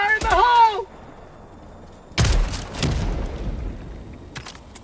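A grenade detonates in the co-op shooter Helldivers 2 with a sudden loud boom that rolls into crackling debris and a softer second blast, following a short burst of in-game voice.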